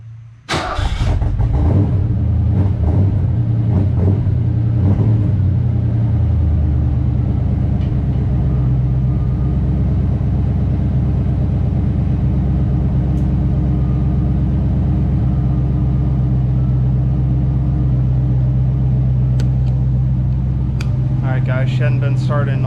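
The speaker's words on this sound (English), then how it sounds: "Alright guys, let's get a cold start." A Ford Foxbody Mustang, left unstarted for a while, cranks and fires on a cold start, then settles into a steady, loud, deep idle that runs on, with a brief voice near the end.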